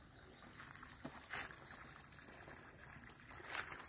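Natural spring water falling by gravity beside a fishing lake in native forest makes a faint, steady trickle and patter with occasional louder splashes, heard alone without talk.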